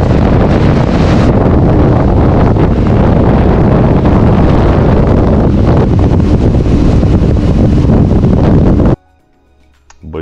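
Strong wind buffets the microphone while riding on the road to a rally in Kėdainiai: a loud, dense, continuous roar of gusts that cuts out abruptly near the end, leaving near silence.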